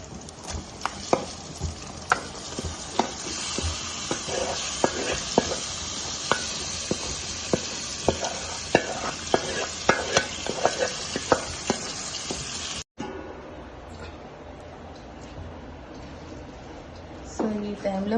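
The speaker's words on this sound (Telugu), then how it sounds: "సో ఈ అల్లం వెల్లుల్లి పేస్ట్ బాగా ఫ్రై అయ్యాక ఈ చికెన్ వేసుకొని మనం ఫ్రై" Chicken frying in ginger-garlic paste in a home kitchen, a steady loud sizzle broken by repeated scraping knocks of a stirring spoon, with a brief cut partway through after which the sizzle continues more softly.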